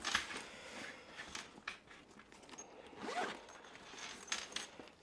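A zipper on a carrying case for a Beyerdynamic MMX 300 gaming headset pulled open in several quick rasping strokes, close and fairly quiet, with brief pauses between pulls.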